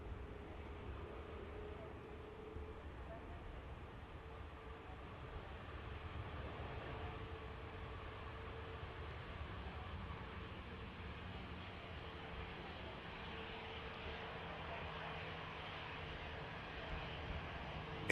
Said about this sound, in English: Just continuing the taxi now to 23 left is the beautiful Qatar.